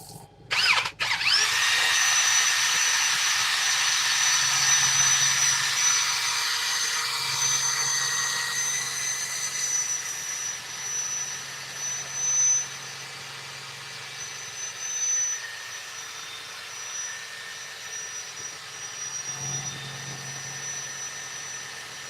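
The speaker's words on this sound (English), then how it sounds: "Let me just sand this really quick." A power sander working on wood, a loud, continuous whine that holds steady for about twenty seconds after a short start and then eases slightly in level toward the end, with no speech.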